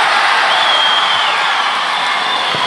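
Crowd at a judo world championship stadium, a broad continuous roar of cheering and noise, loud and sustained.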